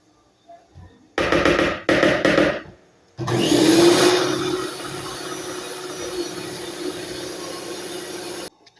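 An electric mixer beating a cooking mixture, with baking soda being added. Two short loud bursts come first, then a long continuous whirring run that eases to a steadier, slightly quieter drone before cutting off.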